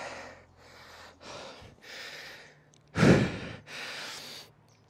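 Heavy, rhythmic breaths during a leg exercise workout, a series of loud exhales and sighs with one sharp gasp near the end, close to the listener with no speech.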